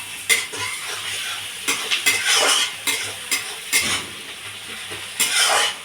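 Onions salted and frying in a pan sizzle steadily while a utensil stirs and scrapes against the metal in repeated close strokes, with no talking.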